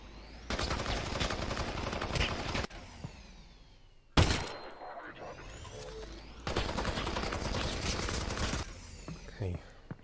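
Gunfire in Half-Life: Alyx VR, heard as long sustained bursts of loud shooting split by a sharp single shot and a gap with metallic clatter, then another extended burst.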